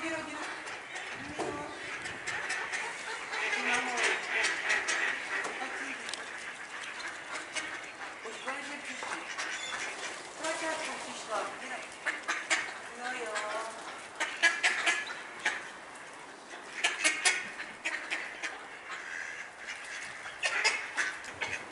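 Ducks gather and quack as they are fed outdoors, with chickens clucking among them. Bursts of calling come and go over about twenty seconds while people talk nearby.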